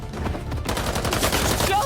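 Rapid gunfire from armed paparazzi in the video game Spider-Man 2, a dense, continuous burst of shots with game noise and voices mixed in.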